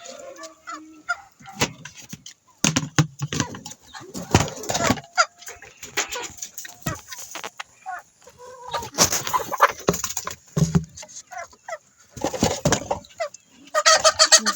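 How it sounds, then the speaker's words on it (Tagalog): Pet chickens on a rural Philippine farm cluck and honk in repeated bursts at close range, uneven and busy, with a voice talking in between. "Yan po yung mga chicken ko guys. Ang aking alagang manok."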